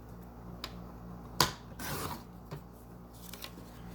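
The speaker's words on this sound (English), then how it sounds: "I just have my little cheapy Fiskars cutter here. We'll cut it at 5 inches" A cheap Fiskars paper cutter trims paper for an envelope, with a sharp click of the blade followed by a short sliding swish as it runs through the sheet, plus a few light taps and rustles around it, all quiet and close.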